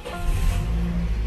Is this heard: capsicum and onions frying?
no